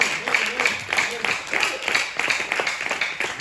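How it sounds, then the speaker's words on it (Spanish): Church congregation clapping in a steady rhythmic beat, a dense run of hand claps with voices mixed in throughout. "Denle ofrendas de palmas al Rey de la Gloria."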